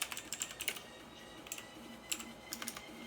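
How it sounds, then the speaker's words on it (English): Rapid, uneven keystrokes on a MOTOSPEED CK62 white mechanical keyboard with Outemu Blue switches, sharp clicky taps in short bursts with brief pauses, close and clear with no talking. "I'm still getting used to, like, mechanical keyboard setups."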